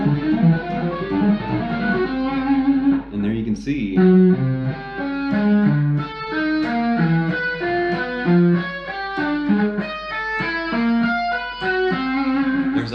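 An electric guitar plays a spastic lick through effects, with rapid, chirping, jumpy notes in quick bursts like a robot gone wild; someone says a few words near the start.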